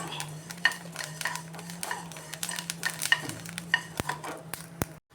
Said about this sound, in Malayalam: അരി പൊട്ടുന്നുവെങ്കിൽ ഇതുപോലൊരു പാനിലിട്ട് നമ്മൾ വറുത്ത് കൊടുക്കണം